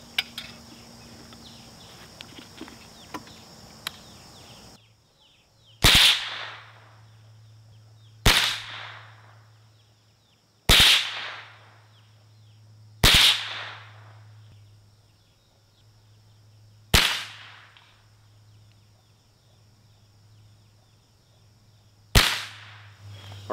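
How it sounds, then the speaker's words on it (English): Rifle shots fired at a target while sighting in a scope for squirrel hunting outdoors: six sharp, loud cracks spaced a few seconds apart, each trailing off in a brief echo over a steady low hum. "we're going to go ahead and put some more lead through it, see how it's hitting"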